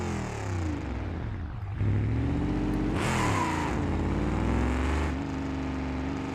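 Simulated car engine revving hard in BeamNG.Drive, a long-neglected project car opened up loud and close with rising, sustained throttle and a sharp climb in pitch midway.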